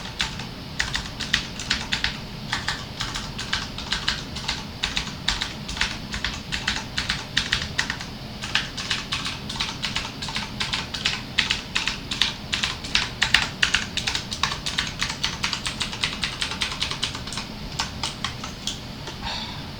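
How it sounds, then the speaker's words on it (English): Rapid, crisp clicking keystrokes on an ASUS Gundam TKL mechanical keyboard with Cherry MX Blue switches, close and continuous, a busy irregular patter of clicky taps with no voices. "Yep, this is the Cherry MX Blue."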